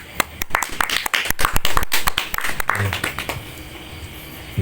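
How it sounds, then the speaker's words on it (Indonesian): Audience at an Islamic study gathering clapping close by, a ragged burst of loud individual claps over the first few seconds that fades out, with a voice speaking underneath. "tepuk tangan untuk Mas Espet"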